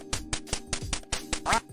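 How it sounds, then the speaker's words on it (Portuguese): Rapid electronic duck quacks from the Duck Hunt video game at its level-zero flood of ducks, about eight sharp bursts in quick succession over a low synthesized tone, with a brief chirping note near the end. "o nível muda para o 0 e começa uma enxurrada de patos."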